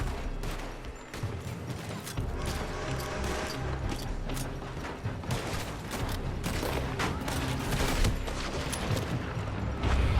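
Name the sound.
gunfire from a building, Red Dead Redemption 2 video game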